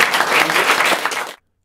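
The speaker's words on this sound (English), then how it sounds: "let's give a big round of applause for Tom and Grand Canyon Rescue episode" An audience bursts into a loud round of applause that lasts just over a second before cutting off abruptly into silence.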